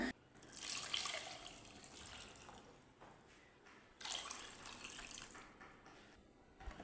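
Water pours into a pot of curry in two bursts of splashing flow with a pause between them, fairly close but at a moderate level.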